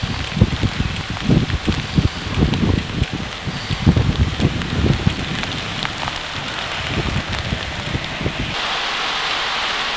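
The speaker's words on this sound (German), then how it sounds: "Und es regnet." Steady rain falls outdoors, a dense patter of drops hitting surfaces at close range with some gusty rustle; no voices.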